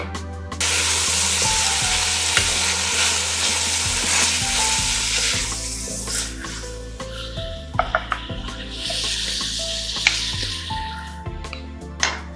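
Onion and garlic for Bolognese sauce fry in a pan with a loud, continuous sizzle, and a utensil stirring and scraping through them makes intermittent clicks and knocks.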